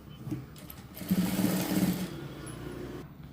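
A sewing machine runs steadily while stitching the side seams of a large blouse, its motor hum rising for a couple of seconds and then easing off, fairly quiet and with no voices.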